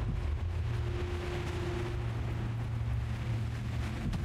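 Wind blows in the video game Devour, a constant low roaring rush with a faint hum layered over it, steady and moderately quiet throughout with no talk.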